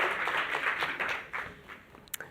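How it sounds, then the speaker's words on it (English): An audience applauds panelists at a Gauteng City Region economic growth and development plan gathering: a fairly quiet, steady patter of many hands clapping, with a few sharper claps near the end. "Please give them a round of applause as they go back to their seats."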